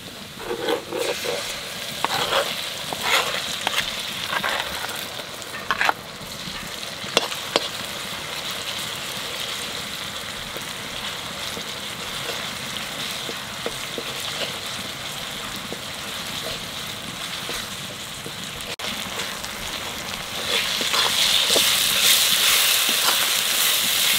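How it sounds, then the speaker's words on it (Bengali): Ginger and garlic fry in a pan with a continuous, dense sizzle and occasional stirring scrapes, close and steady, growing a little louder and hissier toward the end. "এখন আদা রসুনটাকে ভালো করে ভাজবো"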